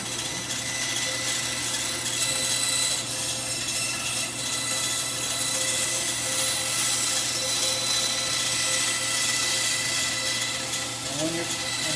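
A band saw cutting wood runs loud and continuous the whole time, a steady broadband whir and rasp with a low motor hum underneath and no talking.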